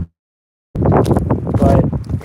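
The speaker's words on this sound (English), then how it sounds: "It's a little windy out here" Gusty outdoor wind buffeting a microphone in an open field of tall new-growth grass, a loud rumbling roar that starts abruptly after a brief silence and fluctuates, with no clear talk.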